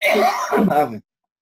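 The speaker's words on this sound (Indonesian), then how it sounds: "jadi ya batuk-batuk saya ini" A single close, loud throat clearing blending into a short cough, lasting about a second before silence.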